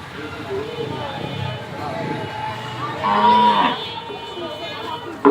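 Cattle moo repeatedly at a cow and goat market at a roadside bridge, several calls rising over a steady crowd murmur with people talking throughout.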